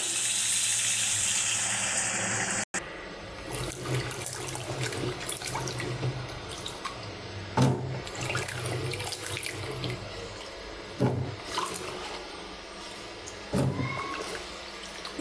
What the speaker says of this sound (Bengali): এখন ধুয়ে নেব।